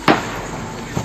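Two sharp gunshots at a university in Perm, Russia, one near the start and one at the end, with a quieter background in between.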